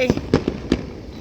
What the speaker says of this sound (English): There go my fireworks show